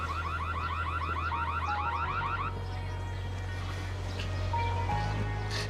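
An electronic alarm warbles in quick repeated bursts for a couple of seconds, then cuts off, leaving a steady hum and faint background noise.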